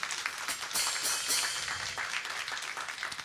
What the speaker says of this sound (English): let's give Malachi a round of applause.